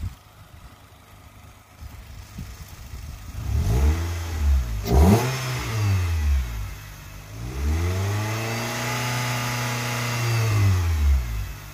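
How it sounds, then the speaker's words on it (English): Nissan Altima 2.5 engine revving under the hood during radiator bleeding, a low idle rising into several repeated throttle blips, each swelling and falling back, fairly close and loud with no talk. "Revving it up makes your water pump spin faster, so it'll help push some of that out."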